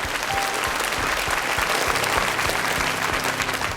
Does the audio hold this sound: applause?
yes